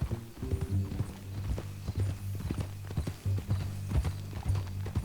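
Horse hooves clip-clopping in Red Dead Redemption 2, a steady walking rhythm of close, distinct hoofbeats continuing throughout over low ambient game sound.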